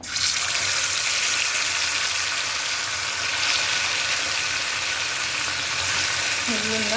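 Ilasa sea fish frying in oil in a small kadai, a dense, steady sizzle and crackle that stays loud and close for the whole stretch, with a faint low tone briefly surfacing near the end.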